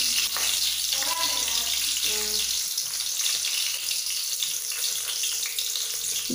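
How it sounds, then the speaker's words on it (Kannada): Crushed ginger and whole green chillies frying in hot oil as the base for a fish curry, a steady close hiss and crackle running throughout with a brief lower tone near the start. "ಫಿಶ್ ಕರಿಗೆ ಸ್ವಲ್ಪ ಆಯಿಲ್ ಇಟ್ಟು ಅದಕ್ಕೆ ಶುಂಠಿಯನ್ನು ಜಜ್ಜಿ ಹಾಕ್ತಿದ್ದೇನೆ"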